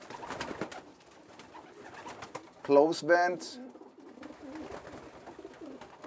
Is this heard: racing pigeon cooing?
yes